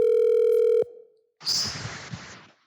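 A loud steady telephone dial tone holds for nearly a second before cutting off, followed by a burst of broadband noise as a cellular phone call is placed.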